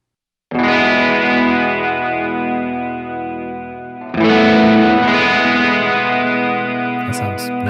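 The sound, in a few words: electric guitar reverb effect from JHS pedal board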